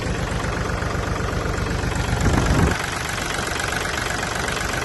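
An L3608 SP tractor engine idles steadily with a knocking, chugging rhythm, briefly rising a little louder before settling back to its even drone.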